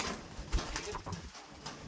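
Young pigeons cooing at close range, a few soft throaty coos with light fluttering and rustling, no speech.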